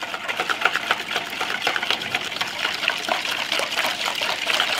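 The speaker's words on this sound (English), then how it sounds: "you whisk it until you get a smooth consistency" Cream of rice stirred with water in a bowl by a whisk, giving a steady, fast scraping and sloshing rhythm, close and continuous throughout with no talk.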